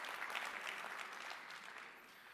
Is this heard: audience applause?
yes